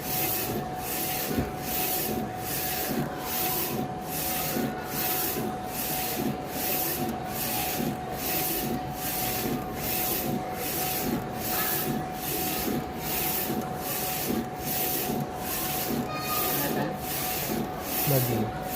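A DTF printer with a fault runs with a rhythmic, repeating swish of the print head sweeping back and forth over a steady mechanical hum, regular and close.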